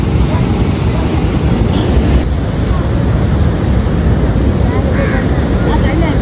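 Ocean waves surging at Varkala Beach, Kerala, near the cliff: a loud, steady roar of surf mixed with heavy wind buffeting, with voices faintly in the background.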